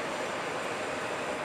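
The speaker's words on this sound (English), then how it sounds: "this rain is not stopping" Rain falling outdoors near LAX, a steady dense hiss with no break and no talking.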